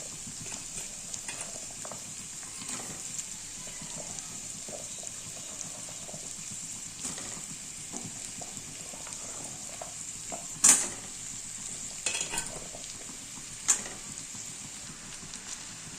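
Potato pieces fry in a pan with a steady, even sizzle that holds at one level throughout, broken by a few sharp clinks and scrapes of stirring, close by.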